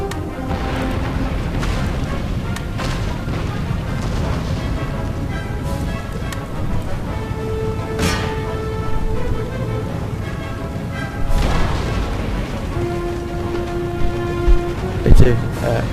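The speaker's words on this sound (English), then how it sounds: "So we'll loosen them up with a bit of good old cannon." Cannon artillery fire in an Empire: Total War battle during a Denmark campaign: several deep booms land through a dense, steady wash of battlefield noise, with the heaviest report near the end.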